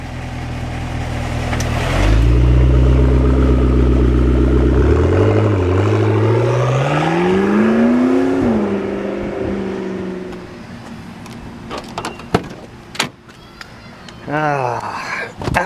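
A McLaren 650S sports car engine and exhaust revving hard up close, rising in pitch through a long pull, then settling into a burbling idle with pops while people talk.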